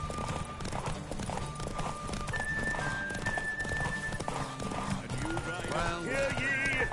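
A horse gallops in a race in The Witcher game, steady hoof clip-clop beats running under crowd noise and a loud speaking voice, with a short whinny-like rise near the end.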